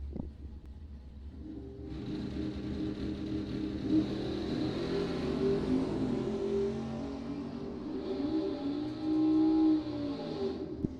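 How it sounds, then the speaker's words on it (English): At a bracket drag race, cars including a Plymouth Duster launch from the line. A loud engine roar bursts in after a quiet start and holds strong, swelling again near the end. "Starting line advantage to Rosenbaum, and he will take the win."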